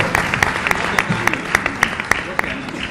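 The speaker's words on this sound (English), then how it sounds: "Please, a round of applause." A lecture audience applauds after prizes are announced, giving steady, evenly spaced claps over a murmuring crowd and some talk.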